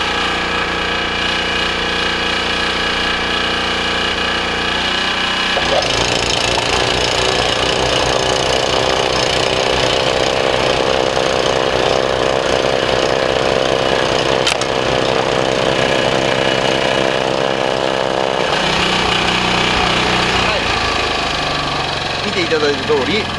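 Yamaha YT-660EDJ snowblower engine runs steadily and loudly while clearing heavy, wet snow, with a rougher churning stretch in the middle as the auger throws the snow, and someone talks over it.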